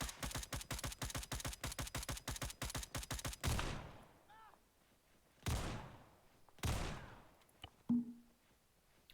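Automatic weapon fire rips out in fast, evenly spaced bursts in an Arma 3 battle, then gives way to a few loud, isolated shots with echoing tails.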